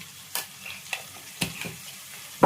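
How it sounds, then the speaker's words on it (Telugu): Onions frying in oil for a cauliflower curry give a soft, continuous sizzle, broken by a few sharp stirring clicks and spatula taps, with no voices. "ఇప్పుడైతే ఉల్లిగడ్డలు వేగినాయి."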